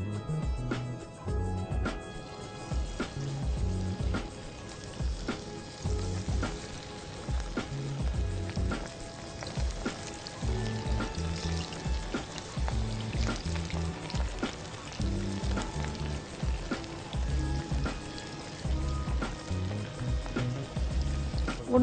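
Marinated prawns frying in hot oil give a continuous sizzle and bubbling, broken by frequent clatters and pokes from a utensil. The sound is moderately loud and busy throughout, with no talk over it.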